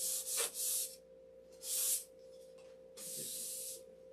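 Bursts of rough, hissing abrasion from sanding wood, three strokes with pauses between, close and fairly loud against a steady low hum.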